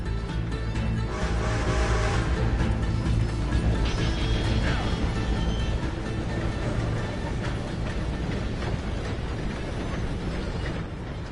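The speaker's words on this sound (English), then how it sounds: "Gotta beat that train, Morgan!" A train in Red Dead Redemption 2 rumbles and clanks continuously, a loud, steady mechanical rattle of wheels and gears filling the whole stretch without letup.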